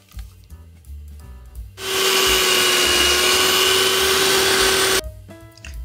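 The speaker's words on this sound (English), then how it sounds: "we're just going to take a hand mixer" A hand mixer whirs steadily through cream cheese, powdered sugar and vanilla extract, a loud, close, continuous motor drone with a beater rasp that starts abruptly, holds for about three seconds, then stops.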